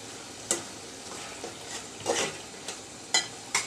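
Tomatoes sauté with cumin powder in a hot pan for a small mixed-fish curry. A steady close sizzle runs under several sharp scraping stirs of the spoon against the pan, with no voices.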